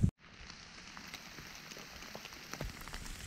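Rain falls during a mountain hike in Shenandoah National Park: a soft, steady hiss with scattered, brief drop taps. A sharp knock opens the stretch, and the whole scene stays faint.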